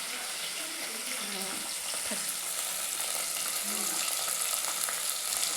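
Mustard seeds, cumin, chana dal and chopped green chillies fry in oil, giving a continuous fine crackling sizzle, fairly faint and steady, with a few soft clinks of stirring throughout.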